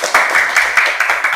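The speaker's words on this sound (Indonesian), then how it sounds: "Ya, sudah, tepuk tangan dulu." Students in a classroom break into applause, a loud, rhythmic burst of many hands clapping in quick, regular pulses.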